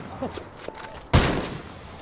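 Gunfire in a Ghost Recon Breakpoint PvP match: one sharp, loud report at close range rings out over a low game backdrop, with faint in-game sounds before it.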